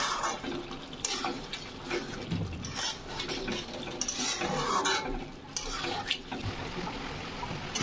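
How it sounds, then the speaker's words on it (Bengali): Chicken being stirred in a pan with the lid just lifted, a spoon scraping and clinking against the metal amid a soft wet sizzle, steady and close with no talking. "ঢাকনাটা খুলে একটু নাড়াচাড়া করে নেব"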